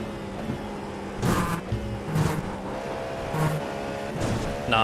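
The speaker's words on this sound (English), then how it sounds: "I'm downshifting too early" A race car's engine in the Daytona 24 racing video game revs and drops through repeated downshifts, with a few sharp bursts of revving over a steady, close engine drone.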